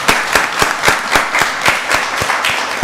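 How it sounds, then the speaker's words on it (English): Applause at a Rockdale County Board of Commissioners meeting honoring the county fire rescue crew: steady, moderately loud clapping from a room of attendees, with sharp individual claps standing out in an even rhythm throughout. "Give them a round of applause."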